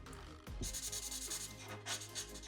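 A chisel-tip marker pen boldly blocking in areas on paper, giving close, continuous dry rubbing and scratching strokes in a steady rhythm, with no one talking.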